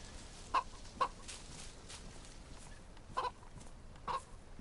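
Chickens cluck in the survival video game DayZ, four faint, short clucks spaced irregularly over a quiet background hiss, with no talk.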